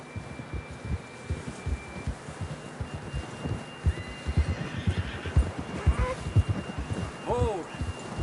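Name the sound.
horse neighing in a video game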